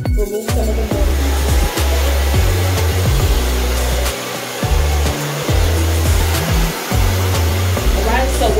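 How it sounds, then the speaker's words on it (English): A blow dryer runs close and loud while lightly drying curly hair, its whirring airflow steady but repeatedly shifting in pitch as it is moved and adjusted. "I'm going to go in with a blow dryer, just again, very light blow dry"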